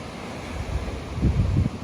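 Surf rolls onto a beach at Los Cabos, Mexico, a continuous low rumbling wash with swells rising and falling, mixed with some wind noise and no voices.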